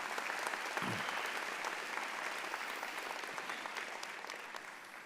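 Steady applause from a commencement audience at an undergraduate graduation ceremony, a dense even wash of clapping that holds for several seconds and fades slightly near the end, heard at a moderate distance.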